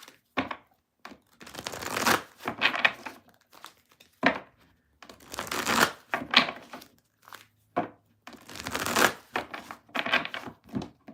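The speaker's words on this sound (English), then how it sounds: "Actually, I'm going to shuffle before I do the timestamps." Tarot cards being shuffled by hand in repeated crisp riffling bursts, each lasting about a second, separated by brief pauses, close and fairly loud, with no one speaking.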